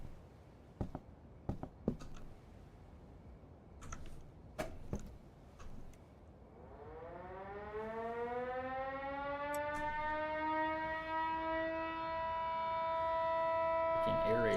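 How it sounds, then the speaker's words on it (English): After a few scattered clicks and taps, air raid sirens wind up and rise into a loud, sustained wail that keeps building. "Air raid sirens are going off."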